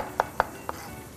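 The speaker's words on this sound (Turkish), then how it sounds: "mantarlarımızı doğrayalım" Knife chopping mushrooms on a cutting board while pasta boils, three crisp, close taps spaced unevenly over about a second.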